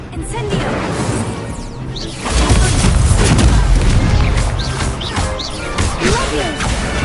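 A fire spell erupting in the Hogwarts Legacy video game, a loud, dense roar of crashing, whooshing bursts and heavy low booms during a duel, with a voice speaking early on beneath the effects.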